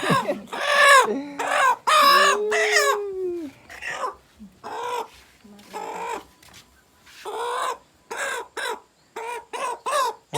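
Chickens gone half-wild like jungle fowl cluck and call again and again in short bursts. Several drawn-out crows rise among them, close and loud, with brief pauses between the calls.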